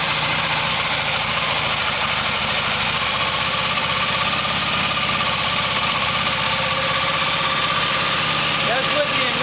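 Home-made 1972 Harley XLH motorcycle engine with carburetor issues, running steadily nearby with a continuous rough idle throb and mechanical vibration throughout.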